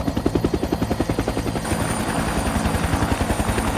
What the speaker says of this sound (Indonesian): Dan tibalah helikopter penyelamat langsung mengevakuasi Ishak dan mayat Matius